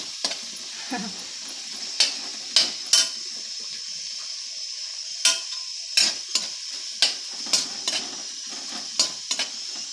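Garlic frying over a medium flame while being stirred in a pan, with a steady background sizzle and a series of sharp scraping and clinking strokes from the utensil against the pan at irregular intervals.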